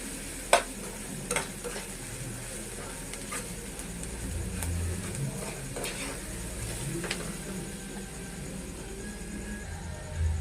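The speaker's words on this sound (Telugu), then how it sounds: "అంతా బాగా మిక్స్ చేసేద్దామండి ఉండలు లేకుండా" Egg, garlic and chili mixture being stirred in a pan to keep it free of lumps, with a steady low sizzle underneath and a few sharp spoon clicks against the pan.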